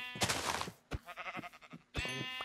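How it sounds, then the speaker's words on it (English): Sheep bleats in the video game Minecraft, three loud, close wavering calls in quick succession with brief gaps between them. "Okay, oh, there's a sheep."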